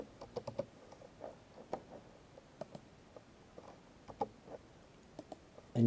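Quick bursts of keystrokes on a computer keyboard while working in SOLIDWORKS, close and crisp clicks in short irregular runs with small pauses, ending in a sudden louder thump, and no talking.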